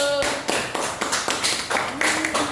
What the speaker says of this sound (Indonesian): Ya, tepuk tangan buat kelompok 1.